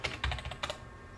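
Rapid keystrokes on a computer keyboard while typing a router debug command, a short burst of clicky taps followed by a pause, close and fairly quiet.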